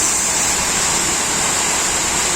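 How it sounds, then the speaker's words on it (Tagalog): Heavy rain pours down in a steady, dense hiss with no break, a loud and continuous downpour without any voices. "Ang lakas ng ulan."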